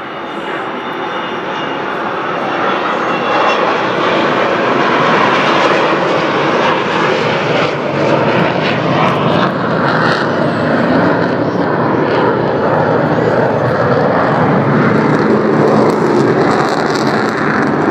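An Avro Vulcan XH558 bomber flies past at an air show, a loud, sustained jet engine roar that holds steady across the whole stretch and swells slightly, with no voices over it.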